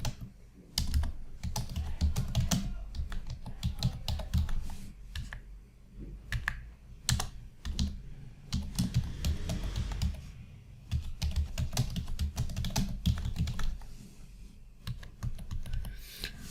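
Typing PHP code on a computer keyboard, with bursts of rapid, close key clicks separated by short pauses, continuing throughout with irregular rhythm and no speech.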